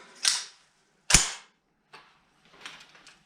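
An M16/AR-15 type rifle with a magazine feeding fault, giving two sharp metallic clacks close by, a fainter click, then a brief rattle of mechanism noise.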